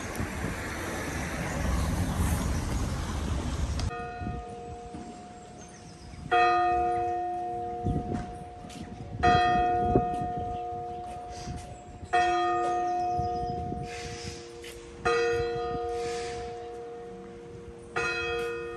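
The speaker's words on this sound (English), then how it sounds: "They're ringing the bell for you, Jovan." Church bells ring out in slow, resonant strokes, each tolling note lingering and decaying, after a brief stretch of passing traffic noise, at Gold Hill in Shaftesbury.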